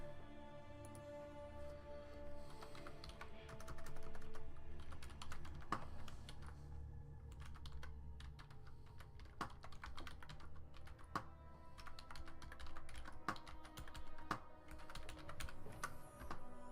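Typing on a computer keyboard during game-making work: a steady stream of quick, close key clicks with irregular rhythm and occasional harder keystrokes, running for many seconds with no talk.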